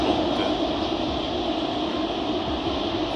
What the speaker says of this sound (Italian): Passa il treno là sul ponte.